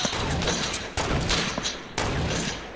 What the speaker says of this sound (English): I'm just shooting everywhere.